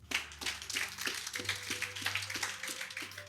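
A church congregation applauds, with steady rhythmic clapping from many hands close by and a low sustained tone underneath.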